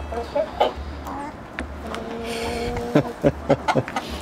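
Chickens clucking softly while pecking at homemade natural feed, short close clucks and pecks with a brief murmured voice, over a low steady background hum.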